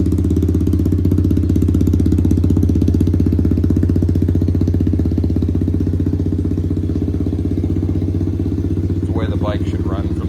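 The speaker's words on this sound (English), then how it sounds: "Literally just started it, cold start. I mean, it's 80 degrees outside, but it idles nice, real nice." A Kawasaki KLX110R dirt bike with a Big Gun EVO exhaust and re-jetted carb idles after a cold start, a loud steady close-up putter with a fast even pulse and a voice appearing near the end.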